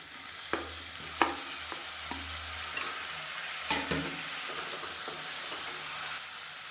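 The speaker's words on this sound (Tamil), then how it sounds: "இப்போ வெங்காயம் நல்லா வதங்கிடுச்சு" Sliced onions with mint and coriander leaves are being sautéed in a pan for coconut milk biryani. A steady close hiss of frying runs under a few scattered utensil knocks and stirring scrapes, with no voices.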